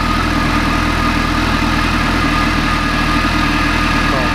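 A Kawasaki ZX14 ZZR1400 motorcycle engine fitted with a mechanical cam chain tensioner runs at a steady idle. A loud, even low rumble continues throughout with mechanical ticking, and a voice speaks briefly over it.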